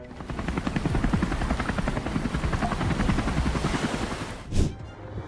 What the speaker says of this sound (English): The Druve helicopter lost balance, spun, and eventually crashed to the ground, causing a loud crash